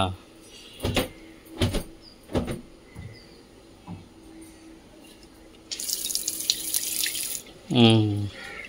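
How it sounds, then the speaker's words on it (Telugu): Water runs from a kitchen tap in a home kitchen: a few soft clunks and drips, then a loud, steady gushing stream for nearly two seconds, followed by a brief voice near the end. "ఈ వాటర్ బాగా వస్తున్నాయా?"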